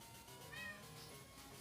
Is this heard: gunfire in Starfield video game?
no